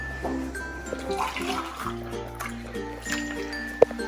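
Half a cup of water poured into a bowl of flour and salt, a brief soft trickle and splash in a kitchen, fairly quiet, ending with a small clink.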